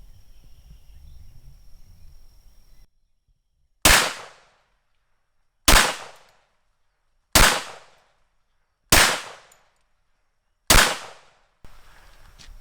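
Five sharp, loud carbine shots from a Beretta Cx4 Storm fired at a target, spaced roughly two seconds apart with short decays, after a quiet stretch of faint background noise.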